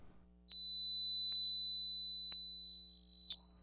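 A steady, pure high-pitched ringing tone simulating tinnitus starts suddenly and holds unchanged for about three seconds before cutting off, alone in silence.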